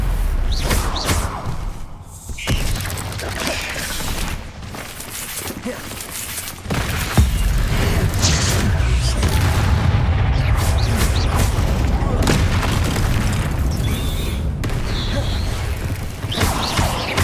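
Confringo and Bombarda spells explode during Hogwarts Legacy combat, with repeated booms, thuds and crackling blasts layered densely over a loud, busy game mix. A voice calls out throughout.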